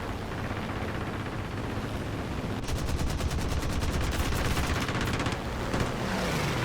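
Typhoon Mk 1B fighter firing its guns in War Thunder: a rapid, loud burst of automatic fire lasting a few seconds over a constant roar of engine and wind noise.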